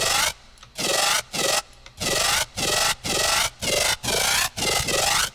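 Synth bass patch pushed hard through OTT upward compression, giving a gritty, raspy buzzing tone in repeated sustained notes of about half a second, each separated by brief gaps, loud and alone with no talking.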